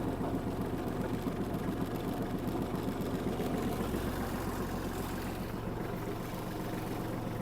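A Kubota GL-200 mini tractor engine idles, a steady, even mechanical drone with a low chugging rhythm, moderately close and continuous without talk.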